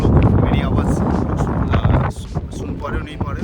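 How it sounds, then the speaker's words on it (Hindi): Strong outdoor wind buffets the microphone with a loud, continuous low rumble that eases slightly partway through, while someone talks over it. "काफ़ी तेज़ हवा चल रहा है बाहर"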